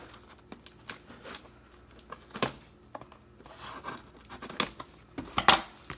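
Scissors snipping and slicing through tape and paper on a planner package, sharp irregular cuts mixed with crinkling and tearing, close and fairly quiet with no talking.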